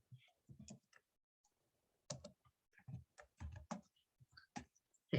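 Typing on a computer keyboard, irregular clusters of crisp close key clicks separated by short pauses, quiet and alone with no talk.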